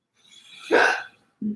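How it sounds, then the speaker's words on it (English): A single sharp hiccup jolts out of near silence, followed by a short voiced breath or sound moments later. "I also always have the hiccup."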